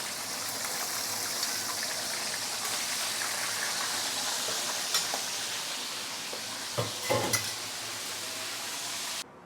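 Flower crab deep-fries in hot oil in a home kitchen, a steady, close hiss and sizzle throughout, with a couple of brief bumps near the end.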